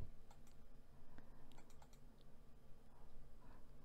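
Faint computer mouse clicks and light keyboard tapping at a desk during software installation, a few soft scattered clicks over a steady low background hum.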